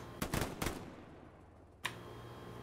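Honor guard rifle volleys during a Memorial Day event in Hell Let Loose: three quick, closely spaced sharp shots, a pause, then a single fourth report, moderately loud against a quiet background.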